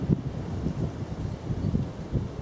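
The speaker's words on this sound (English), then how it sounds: "As the wind picks up" Steady wind blusters across the microphone on a countryside walk overlooking a former quarry, a low continuous roar with gusty swells and no talk.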